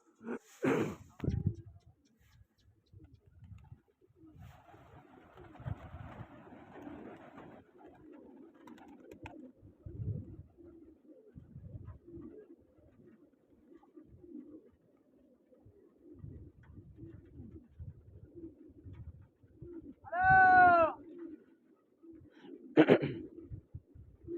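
Pigeons coo in soft, low, intermittent murmurs against a quiet background, with a few sharper sounds and brief bursts scattered through, close and faint overall.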